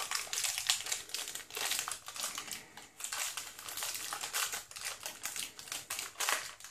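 Plastic packaging around the USB charging cable of a Google Nexus 5 being torn and opened, a steady run of crinkling and crackling with no pauses, close and fairly loud.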